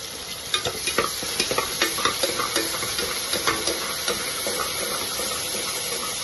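Ground shallot paste sautés in a hot pan for Dindigul-style mutton biryani, a steady close sizzle broken by a regular run of scraping stirs from a spoon, with no voices.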